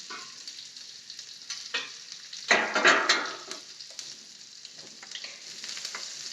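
Steady crackling sizzle of green chilli and grated ginger frying in a pan until golden, for kachori, with a few louder stirring scrapes in the middle; no voices.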